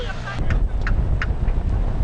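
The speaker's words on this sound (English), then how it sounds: "nothing better than hearing that incredible engine on the Mustang" A Ford Mustang race car's powerful engine drones with a deep, steady rumble, heard from some distance amid outdoor noise at the Sannieshof 200 race.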